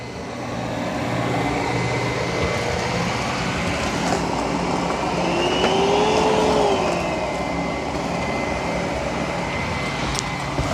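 A Roborock Q10 X5 robot vacuum and mop runs steadily on a muddy, hairy mess, a loud continuous motor whir with a brief rising whine in the middle, no talking.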